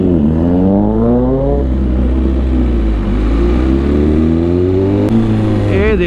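A motorcycle stuck in a construction traffic jam revs its engine up close, loud and continuous, the pitch climbing and falling through repeated throttle blips.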